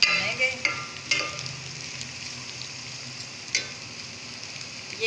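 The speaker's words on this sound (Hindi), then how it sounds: "ये इसके साथ हम प्याज भी ऐसे डाल देंगे और उसके साथ इसको थोड़ा सा भूनेंगे।" Bitter gourd and onion frying in a pan, a steady soft sizzle with occasional stirring clatter and scraping, close and moderately loud throughout.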